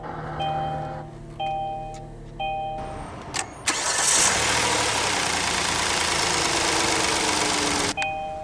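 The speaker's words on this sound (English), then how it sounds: "let's go ahead and start the engine" 2017 Kia Sorento EX with V6 and AWD, started by push button: a few soft chimes and clicks, then the starter whirs briefly and the engine catches with a loud flare before settling into a steady, smooth idle.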